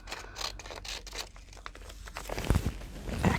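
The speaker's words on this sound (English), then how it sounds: "Just trimming it a little bit because it's a little raggedy on the edge" Scissors trim the ragged edge of paper scraps at close range, giving a series of quiet snips and crinkles. A few louder rustles come near the end.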